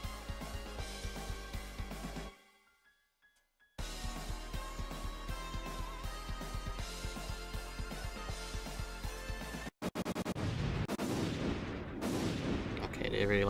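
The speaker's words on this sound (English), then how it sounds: "they really like that green screen explosion" Battle-sequence explosions and gunfire from a film play loud and dense, cutting out briefly to near silence before the booming barrage resumes, then grows harsher and more crackling toward the end.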